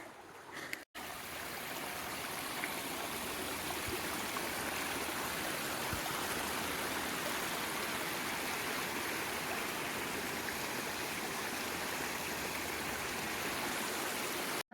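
A discolored creek on the Allegheny Front Trail flows past with a steady, loud rushing and burbling that holds evenly throughout.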